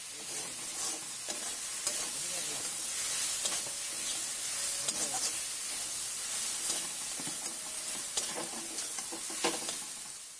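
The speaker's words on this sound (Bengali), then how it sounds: "1 মিনিট মতো একটু নাড়িয়ে চাড়িয়ে তারপরে নামাবো।" Pre-boiled red spinach being stirred and fried in a pan with bori and dried chili, a steady bright sizzle with scraping stir strokes throughout, close up and without talk.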